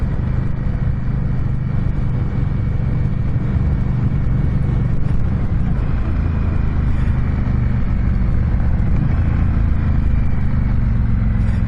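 A 2021 Indian Scout Bobber motorcycle on a demo ride, its engine droning steadily and loud throughout with rumbling low tones and wind and road noise mixed in, no break in the sound.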